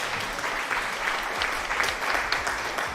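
An applause sound alert plays on a livestream: a steady wash of crowd clapping, fairly quiet and uniform, lasting the full few seconds without talk.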